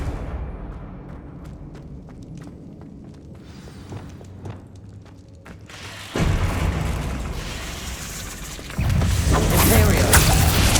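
Confringo fire spell from Hogwarts Legacy bursting in two loud explosive blasts with a heavy rumbling roar, following quieter ambient game sounds.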